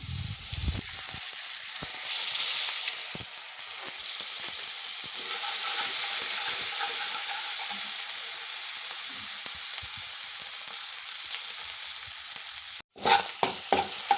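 Chopped celery and homemade Schezwan paste sauté in oil in a pan, a continuous close sizzle with stirring scrapes, broken by a brief cut near the end before the frying resumes.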